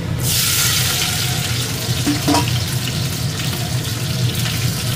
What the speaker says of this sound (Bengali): হালকা ফ্রাই করে নিচ্ছি এগুলো